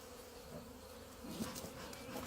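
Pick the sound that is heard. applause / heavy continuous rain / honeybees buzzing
honeybees buzzing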